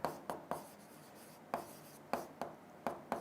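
Chalk or marker tapping and scratching on a classroom board during a physics lesson, a series of short crisp strokes in uneven rhythm, close and clear with no talk over it.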